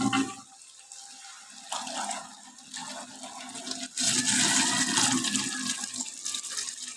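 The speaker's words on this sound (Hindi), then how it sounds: "तो अभी मैं इसमें ऐड कर रहा हूँ पानी।" Reserved boiled water is poured into a black gram curry in a home kitchen, a continuous close pouring and splashing gush that swells louder partway through and carries on steadily to the end.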